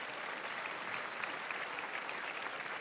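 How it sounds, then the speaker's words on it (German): An audience at an open-air Sunday television show at Europa-Park claps warmly, a steady wash of applause without talk, somewhat distant and soft. "es ist dein Applaus"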